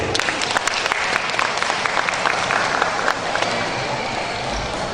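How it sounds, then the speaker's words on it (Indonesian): Audience applause at a hijaber moms community gathering in a university auditorium in Pontianak, loud and sustained clapping from a sizeable crowd filling the room evenly with no talk. "tepuk tangan dulu"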